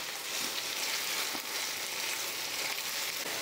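Soybean curry fries and dries in an open pan over a medium gas flame, giving a steady, even sizzle that carries on alone without pause.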